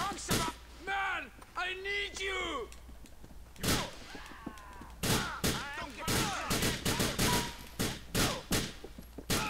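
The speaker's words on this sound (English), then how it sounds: "Fire the gun." Gunfire in GTA IV: a series of sharp shots and thuds, loosely spaced at first and then coming in quicker bursts, mixed with shouted voices and in-game speech throughout.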